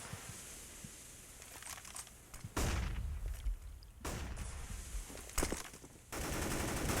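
Rapid automatic gunfire sprays in a Counter-Strike esports match, with bursts of several shots cutting in sharply over steady game ambience, loud and close.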